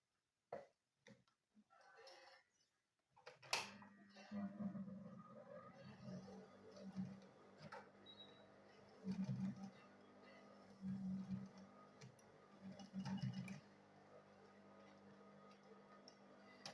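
A sewing machine stitches a panel strip onto a school bag front, running in a few short, faint bursts separated by quiet gaps, with soft handling noises in between.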